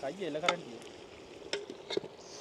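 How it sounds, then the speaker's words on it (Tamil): Village chicken biryani is stirred in a hot pot, giving soft scraping and sizzling with a few sharper knocks, close and quiet, while someone talks briefly at the start. "கொஞ்சம் கையில் வச்சு இப்படி கிண்டினா தானே ஓகேயா இருக்கும்"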